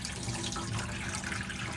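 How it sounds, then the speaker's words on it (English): Water runs steadily from a mixer tap inside a Pilote Galaxy 40 motorhome, a continuous broadband rush that stays even and fairly close throughout, with no voices. "I will also show you some water running through your taps here."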